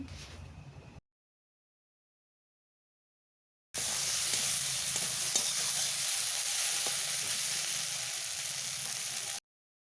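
Chopped tomato fries in a pan of spiced oil for a mushroom and potato curry, giving a loud, constant hiss and sizzle up close, with a short burst at the start, a silent gap, then a long steady stretch.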